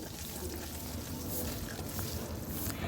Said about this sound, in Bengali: তারপর আমি ডিমগুলো ছেড়ে দিলাম ভালোভাবে ভাজার জন্য